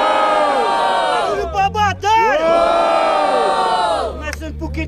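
A loud crowd at a street rap battle in a metro station roars, cheers and shouts in rising and falling waves, with shrill whoops on top and a few brief dips.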